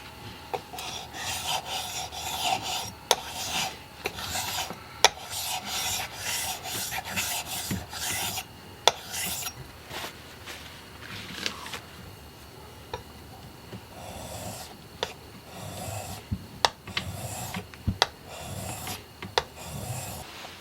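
A plane iron rubs back and forth on a 3000 grit sharpening stone, giving a soft, steady rasping scrape in repeated strokes, close and fairly quiet with no voices.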